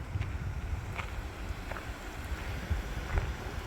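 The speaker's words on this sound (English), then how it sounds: "Oh, cool wind is so nice." Steady, rumbling wind gusting across the microphone on a mountain trail in the Jemez Mountains, a continuous low roar with slight swells and no voices.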